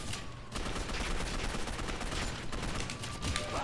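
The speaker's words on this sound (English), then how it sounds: "I'm getting shot at." Sustained rapid gunfire rattles through an online match of the Gotham City Impostors shooter game, a dense continuous burst of close shots after a brief quieter lead-in, with no talking.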